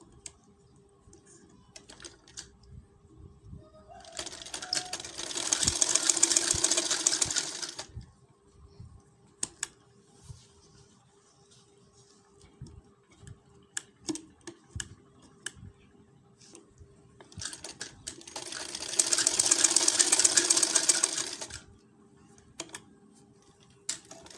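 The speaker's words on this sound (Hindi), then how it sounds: "अब इस तरह से रख के यहाँ से सिलाई लगाऊंगी।" A sewing machine stitches a school uniform coat collar in two loud, steady bursts of rapid whirring, each lasting a few seconds, separated by quiet handling clicks and taps.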